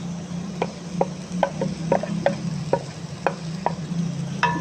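A spoon scrapes rhythmically through cluster bean (gwar phali) sabzi frying in a pan, with a dozen sharp close knocks over a continuous low sizzle and no talking.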